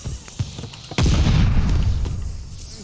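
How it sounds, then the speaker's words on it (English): A bomb explosion in the multiplayer video game Call of Duty Vanguard: a few light shots lead into one loud, close boom that rolls on as a long, deep rumble and slowly fades. "Bombs in the city."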